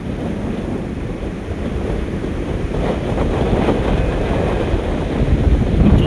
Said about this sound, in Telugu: సముద్రం చాలా చాలా విపరీతంగా, చాలా డేంజర్ చాలా డేంజర్గా ఉంది.